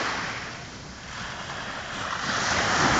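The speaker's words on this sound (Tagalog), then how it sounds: "Kita nyo yung kalinang malawak ng karagatan." Ocean waves wash in at Sahara Beach in Leyte, a broad steady surf swelling louder toward the end, with wind buffeting the microphone.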